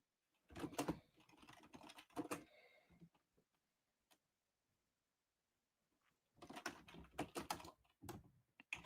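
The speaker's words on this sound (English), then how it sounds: "You're typing away." Typing on a computer keyboard comes in two quick rattling bursts of close keystrokes, separated by a few seconds of near silence.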